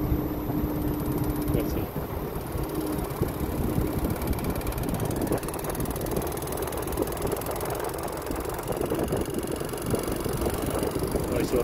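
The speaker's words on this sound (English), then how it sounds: "Now is compressor working." A VRF air conditioner's outdoor compressor runs alongside its fan with a steady mid-range drone and a constant high whine, loud and unbroken, while someone speaks briefly over it.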